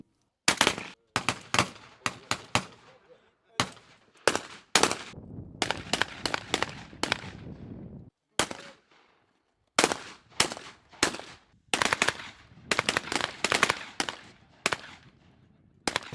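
Shotguns crack again and again at a Browning shooting event, firing semi-automatic. Sharp, loud reports come in quick bursts and single shots over about sixteen seconds, with brief pauses between volleys.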